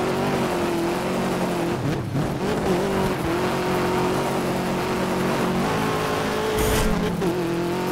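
A rally car in the racing game Dirt 2 drifts with a steady, droning engine note and tire squeal, the pitch dipping and rising as it slides through corners, loud and continuous with no voices.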